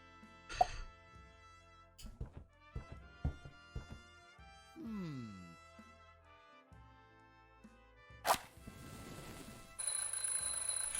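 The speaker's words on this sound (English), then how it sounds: "I'm, just testing the smoke detector." Smoke detector alarm tested in a point-and-click adventure game, sharp electronic beeps cutting in briefly amid clicks and short musical tones, then a sustained shrill ring near the end, moderately loud.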